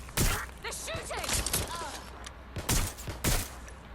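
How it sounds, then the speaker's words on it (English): Gunfire in the video game Watch Dogs Legion, several sharp loud bursts and single shots cracking out at irregular intervals, with shouted voices in between. "They're shooting!"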